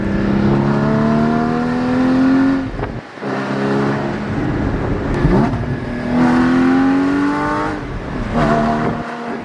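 A Porsche Cayman GT4 entering a canyon road, its engine loud and close, revving with steadily rising pitch through each gear, then briefly dropping at quick shifts about every few seconds.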